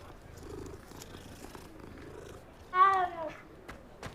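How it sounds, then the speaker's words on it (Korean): A cat in the video game Hogwarts Legacy purrs softly under quiet game ambience, then gives a short, louder trilling purr before fading. "그릉그릉거려."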